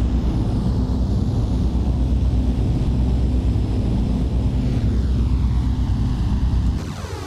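A jet airliner in a flight simulator rolls out after landing at a notoriously dangerous airport, with a loud steady engine roar and rumble that drops off near the end as a whining tone sweeps downward.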